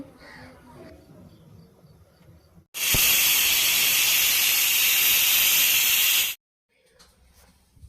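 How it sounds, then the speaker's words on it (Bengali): Pressure cooker cooking chicken stew lets out one loud, steady whistle of escaping steam lasting about three and a half seconds, then cuts off sharply, with quieter kitchen sounds before and after. "তো আমার প্রেশার কুকারের আমি 3টে সিটি দেব, 3টে সিটি দিয়েই নামিয়ে দেব।"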